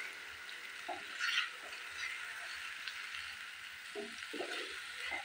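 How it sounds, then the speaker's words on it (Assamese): Potatoes fry in spiced oil over a medium gas flame, giving a steady, close sizzling hiss throughout, with faint voice-like sounds in places. "এইদৰে ভালদৰে ভাজি ল'ব আলুখিনি।"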